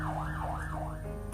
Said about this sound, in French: les sirènes qui sifflent, qui font du bruit dans la nuit